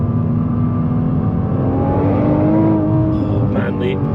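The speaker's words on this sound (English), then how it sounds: "lovely noises coming from the back of the car." A 600-horsepower four-wheel-drive Nissan GT-R NISMO accelerates hard, its engine and exhaust rising in a steady, loud drone with climbing pitch, heard from inside the car with a brief voice near the end.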